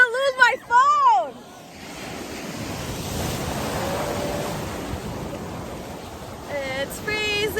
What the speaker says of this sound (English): these waves are kind of monstrous